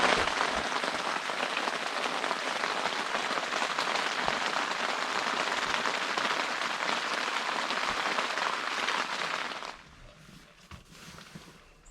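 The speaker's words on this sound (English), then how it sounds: "Boy, did it ever rain." Heavy rain falls at night in a dense, steady patter that carries on for about ten seconds, then drops away to a faint, quieter drip and hush.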